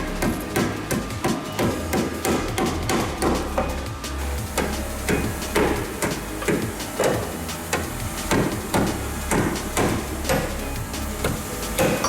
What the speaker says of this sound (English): just gonna try hammering away